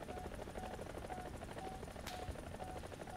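A helicopter flies overhead in a video game, its rapid rotor chop pulsing steadily and fairly faintly across the clip, with a brief sharp burst of another sound partway through.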